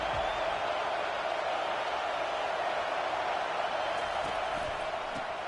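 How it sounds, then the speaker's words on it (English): A stadium crowd in the College Football 25 video game roars as a steady, wide wash of noise. The crowd sounds distant and moderately quiet and holds a constant level throughout. "Listen to the crowd energy here in the early going."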